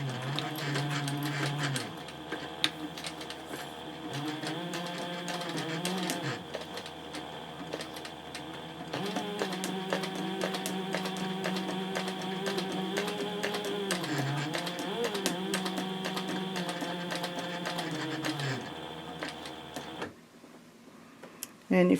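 A sewing machine stitches a Bellezza handbag at a 2.5 stitch length, humming in long continuous runs that briefly slow between passes before cutting off near the end.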